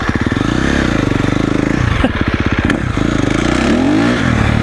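A motocross dirt bike revs hard up close, its engine a loud rapid thumping buzz that climbs and dips in pitch with throttle blips and accelerations, dominating throughout.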